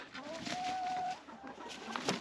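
A pet backyard chicken named Teriyaki makes soft, drawn-out clucking and cooing calls close by, low in level, with rustling and a brief sharper sound near the end.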